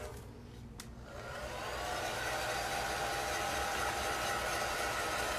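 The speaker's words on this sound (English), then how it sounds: "Our blow dryer is like my best friend when I have to move fast" A blow dryer drying paint hums with a steady, breathy whir that swells up after a brief click and holds constant, fairly soft, with no talking.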